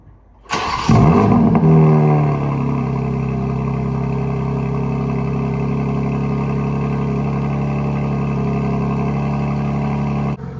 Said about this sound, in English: based on that startup, I'm sure you guys can tell that it's a little bit louder than it used to be